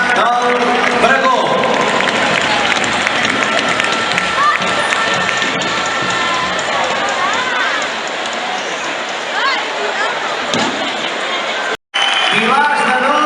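Loud, sustained crowd applause and cheering in the Palau d'Esports for the children of the Blancs colla entering as two-tier human pillars at Granollers Festa Major, a continuous roar of clapping with crowd voices, cutting out briefly near the end.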